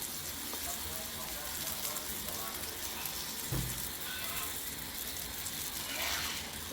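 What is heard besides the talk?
paratha frying with oil on a tawa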